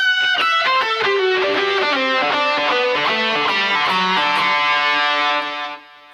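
Close and loud, a distorted electric guitar rips through a fast phrase from a second solo in D Mixolydian, with dense runs and repeated half-step bends on the high string before the final note is cut off.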